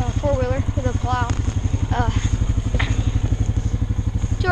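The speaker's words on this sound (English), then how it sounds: "Four-wheeler now, heading over to the neighbors." A four-wheeler ATV fitted with a snow plow idles and putters steadily in the foreground, its low engine rumble running throughout while a person talks over it.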